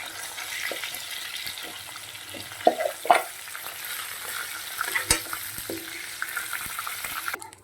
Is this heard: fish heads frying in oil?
yes